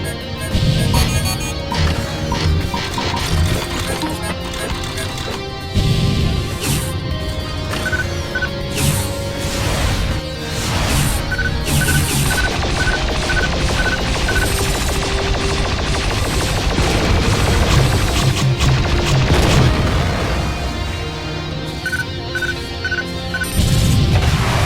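Dense, continuous ship gunfire and explosions in the space combat game Freespace 2, loud rapid bursts, booms and crashes layered over a steady roar with repeating beeps, no talking.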